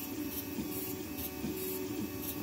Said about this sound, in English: I think it's printing a big support part.